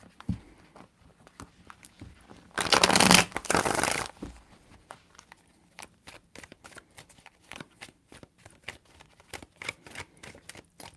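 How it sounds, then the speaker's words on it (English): A deck of tarot cards is shuffled by hand, a dense riffle of rapid papery flicks in the middle followed by a scattered series of sharp individual card taps and snaps, close and clear with no talking. "Three shuffles."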